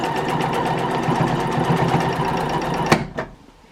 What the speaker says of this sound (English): you need to find the rhythm of your machine when you start quilting